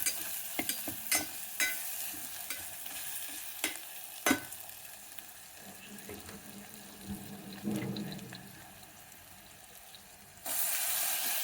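Beans tossed into a frying tomato masala, with intermittent stirring clatter over a soft sizzle and a burst of running water near the end.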